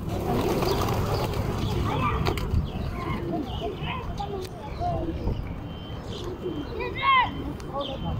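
Doves on the Doha Corniche crowding in to be fed, giving soft coos and fluttery chirps over a busy outdoor background, with one brief sharp call standing out near the end.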